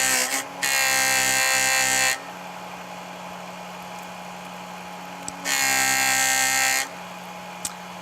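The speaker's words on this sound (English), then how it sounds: "I would polish it right, holding it right up underneath the wheel and just polishing the star" A JOOLTOOL polishing wheel buffs a stone-and-silver jewelry piece: two loud, sustained whining bursts as the piece is pressed against the wheel, separated by the motor's lower steady hum, with no talking.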